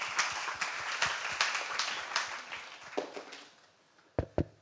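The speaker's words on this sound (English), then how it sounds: "Give him a round of applause" Audience applause for a keynote speaker at a conference gathering: dense clapping from a crowd that thins out and fades, ending with a couple of isolated sharp claps.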